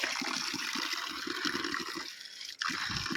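Water rushing continuously along an irrigation channel toward fields in Bhaderwah, a close, bright gushing and splashing with a brief lull before the flow surges again.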